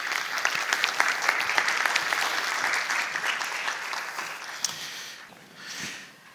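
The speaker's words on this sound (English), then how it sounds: "Let's give her a round of applause." An audience at a Southern California State of Reform keynote event gives a round of applause. Dense, steady clapping fades toward the end.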